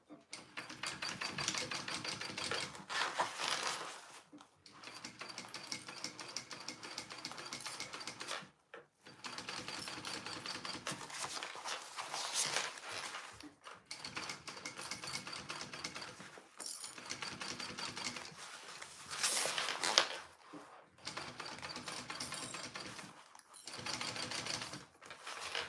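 A sewing machine stitches a lining at full seam allowance in quick, whirring bursts, stopping and starting several times with short silent pauses between runs, close and clear.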